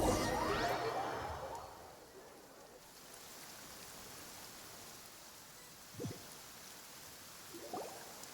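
Steady rain falling in a Genshin Impact game scene, a soft continuous hiss that follows a loud whooshing swell at the start, with a few faint tapping sounds later on.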